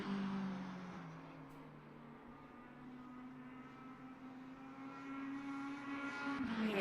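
GT3 race cars in Le Mans Ultimate during an hour-long multi-class endurance race, engines droning steadily with sustained tonal whine that rises near the end, no talk.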